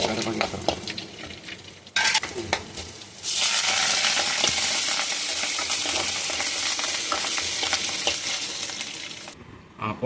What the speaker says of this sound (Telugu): చట్నీలోకి పోపు వేసారండి